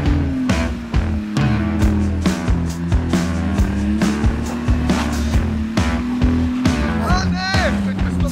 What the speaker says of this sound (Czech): Je tady extrémně sněhu, to znamená jenom jedno, jde se driftovat.